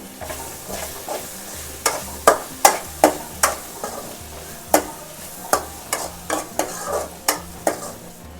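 Lady's finger fry with coriander being stirred in a pan, a soft sizzle under a string of sharp, close spatula scrapes and taps landing in an uneven rhythm.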